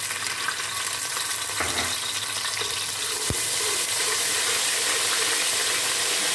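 Ginger garlic paste sautés in a pan with cumin, sizzling steadily and evenly throughout, with a faint clink of a spoon partway through.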